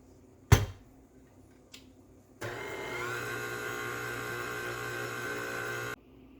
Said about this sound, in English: I'm going to be using a KitchenAid mixer with a dough hook attachment